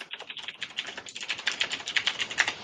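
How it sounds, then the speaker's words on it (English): Rapid, forceful typing on a computer keyboard, a dense run of sharp clicks and key taps that grows louder and more insistent toward the end, heard alone with no voices. "Boy, that was aggressive typing."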